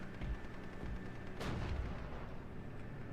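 Artillery fires in the World War II video game Steel Division: a single sharp blast rises out of a constant, busy battlefield rumble, with further muffled thuds underneath and no talk.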